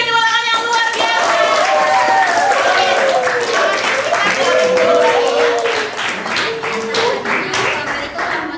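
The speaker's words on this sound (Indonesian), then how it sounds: "kita beri tepuk tangan yang luar biasa" A classroom audience claps steadily and loudly, with voices calling and chattering over the clapping throughout.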